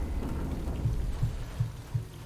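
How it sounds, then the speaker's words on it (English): Recorded rain and thunder play from a computer: a steady, even hiss of rainfall with soft, low rumbles recurring about every second, and no voices. "Use the computer to turn on some rain sounds."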